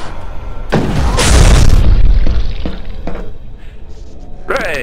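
A turret in the co-op shooter E.Y.E. Divine Cybermancy fires, and a loud, close explosion booms and rumbles for over a second before scattered smaller impacts and a brief electronic sound.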